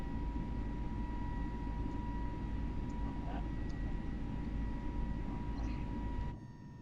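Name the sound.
aircraft engine in a flight simulator video game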